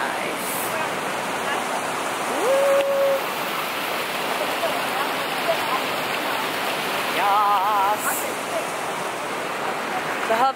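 Outdoor fountains send water splashing in a steady, even hiss like rain or a small waterfall, with a brief bird call and faint voices in the background.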